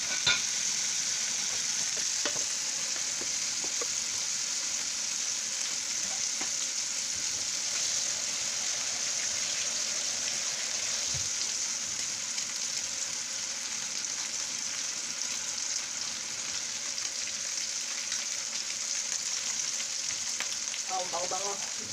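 Beef sticks fry on high heat in a pan, giving a steady loud sizzle that carries on without a break, with a few faint clinks now and then.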